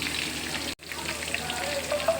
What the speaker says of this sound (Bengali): এই ভাজাগুলো আমি লাল করে দেখো ভাজবো।